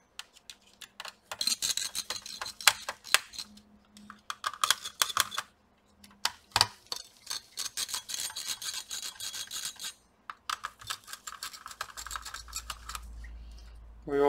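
Small screws being worked loose from the CPU heatsink of an HP 2000 laptop, a dense run of close, light metallic clicks and scratchy taps in quick bursts with brief pauses, ending on a low rumble.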